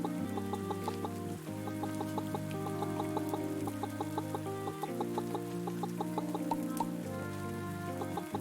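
Several chickens cluck continuously in the video game Pumpkin Days. Repeated short clucks sit over a steady looping farm music bed, with no talk.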